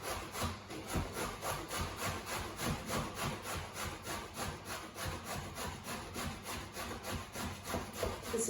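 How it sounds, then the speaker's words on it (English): Zucchini being grated by hand, a steady rapid back-and-forth rasping scrape with regular strokes, close and continuous, no talking. "The zucchini is quite good to grate"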